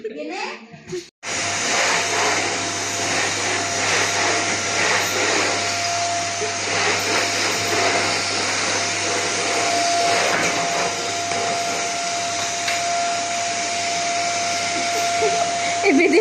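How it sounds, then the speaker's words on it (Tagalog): A vacuum cleaner runs steadily at home, a loud continuous whirring drone with a faint steady whine that holds for the whole stretch after a brief pause at the start; faint voices, a child among them, sound beneath it. "Nag-vacuum si ate."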